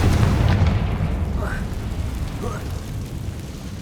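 Confringo fire spell explosions in the Hogwarts Legacy video game, a heavy low boom at the start followed by rumbling blasts and whooshing tones, with a voice speaking over the action.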